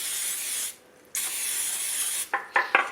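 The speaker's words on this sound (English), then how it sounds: "So I'm going to spray it with my cooking spray so they don't stick." Cooking spray hisses into a muffin tin in a steady burst, stops briefly, resumes for over a second, then ends with three short quick spritzes.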